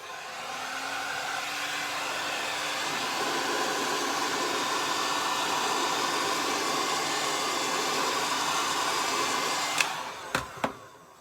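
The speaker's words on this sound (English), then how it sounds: "So wrapping foil needs a little bit of heat to be flexible and really sticking to the material." A heat gun blows hot air onto wrapping foil on a piano black panel, a steady, loud whooshing hum that ends with a few sharp clicks.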